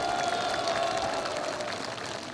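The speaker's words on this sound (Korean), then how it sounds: "이 영웅들에게 뜨거운 격려의 박수를 부탁드리겠습니다" A crowd applauds at an outdoor statue unveiling ceremony in Korea, a continuous, moderately faint patter of many hands clapping that gradually eases off toward the end.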